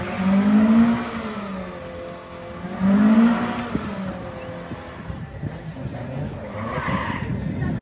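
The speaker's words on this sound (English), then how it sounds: "how I go about doing big smoky burnouts like this" Car held in a big smoky burnout, tyres squealing in two long loud swells with engine revving between them, then a rougher, lower engine roar as the spin eases off.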